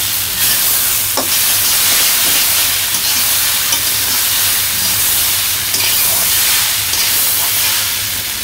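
Fish frying in hot oil in a village kitchen, a steady loud hiss and sizzle running throughout with occasional crackles, close and continuous with no voices.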